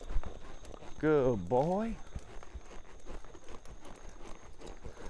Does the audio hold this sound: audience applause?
no